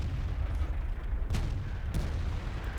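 A tank cannon fires a premium round in World of Tanks, one sharp boom standing out from a constant low rumble of battle, with a second softer report shortly after.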